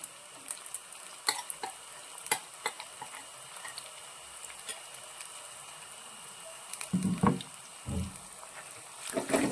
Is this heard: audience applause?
no